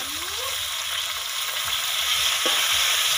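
Garlic, ginger and green chilli paste frying in a pan for a Bengali banana-blossom curry, with a steady close broadband sizzle and a couple of faint stirring scrapes, no voices.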